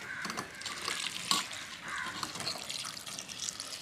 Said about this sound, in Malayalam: ഇത് അടുപ്പത്ത് തന്നെ വെച്ചിട്ട് ഇതിൽ ഒരു സ്വല്പം വെള്ളം ഒഴിക്കും